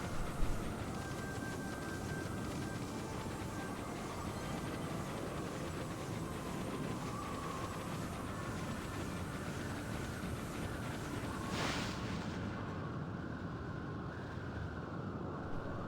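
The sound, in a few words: howling blizzard wind in a video game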